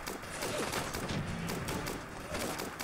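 A Bren gun fires in Fallout London as a dense, continuous stream of rapid shots, loud and close, with the reports blurring into a rattling roar for the whole stretch.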